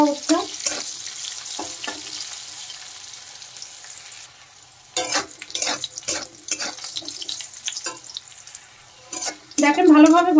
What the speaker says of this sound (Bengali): নেড়ে চেড়ে এখন করলাগুলো ভালো করে ভেজে নিতে হবে